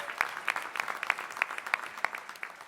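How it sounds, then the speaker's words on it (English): Applause from a dinner audience at the JPAC Capitol Summit with the Jewish Caucus, a scattered patter of claps spread across the room, moderately loud and steady. "David Bocarsly, who deserves a round of applause"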